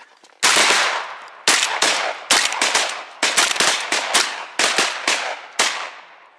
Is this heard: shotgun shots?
yes